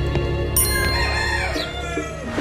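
Chickens cluck on a farm while a rooster crows partway through, the busy fowl calls fairly close and loud over a steady background of other birds, with no talking.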